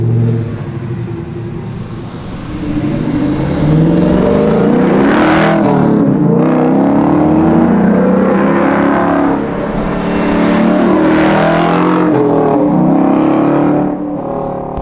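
A Coyote-swapped 1967 Ford Mustang Fastback's V8 accelerates hard and loud nearby, revving up through gears with a rising whine, shifting pauses and a sustained roar.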